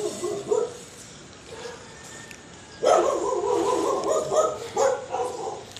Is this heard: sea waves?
no